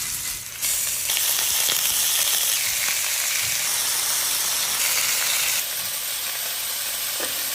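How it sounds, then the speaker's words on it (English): Beef rouladen sear in beef tallow in a cast iron pan, giving a loud, close, continuous sizzle and hiss that swells after a brief dip at the start and eases slightly near the end. "Now we're gonna sear them in our cast iron"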